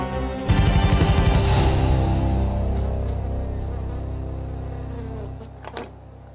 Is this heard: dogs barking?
no